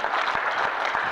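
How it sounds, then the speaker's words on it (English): An audience claps for a short moment in a lecture hall. The applause is dense and fairly loud, a quick burst of many hands. "Give the sisters a round of applause."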